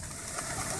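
Pigeons landing and cooing in a short, soft burst of low coos over steady outdoor background noise.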